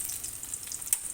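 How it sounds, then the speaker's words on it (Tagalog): Hotdogs frying in a pan for a home breakfast give off a soft, continuous sizzle with light crackles and no talking. "Magluluto ang nanay ng hotdog."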